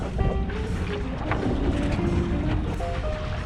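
Model mini tugboat motor at full throttle out on the water: a continuous low drone with faint tonal whines, steady and moderately loud, mixed with wind and water noise.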